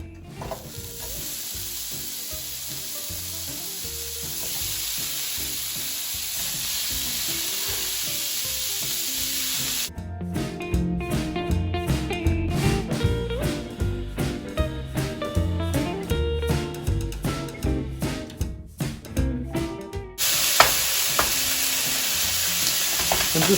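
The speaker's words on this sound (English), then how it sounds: "we're gonna throw this ground beef in here and we're gonna brown it." Ground beef mixed with a garlic jalapeno rub browns in a pan, sizzling and crackling steadily close up, with scraping and stirring strokes breaking up the meat through the middle stretch before the frying settles back to an even hiss.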